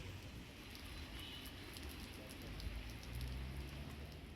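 Heavy monsoon rain in Gujarat falls in a steady, dense patter on surfaces, heard faintly and evenly throughout with no break.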